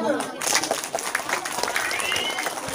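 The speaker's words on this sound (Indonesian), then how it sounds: "Makanya nanti ya, tepuk tangan dulu ya." Schoolchildren on a study tour at the Giriloyo batik village clap in a scattered group, the claps crisp and fairly close, mixed with excited children's voices and chatter.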